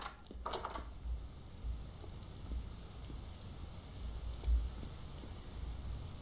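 Steady rain falls across the landscape of the video game Vintage Story, a soft continuous hiss with faint low thumps, no talking heard.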